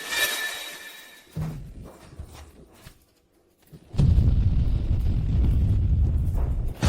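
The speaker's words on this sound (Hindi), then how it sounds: "ये तो परमाणु बम है" An atomic bomb blast sound effect, a deep roaring rumble that swells suddenly and holds loud after a quieter stretch of scattered thuds, with no talking.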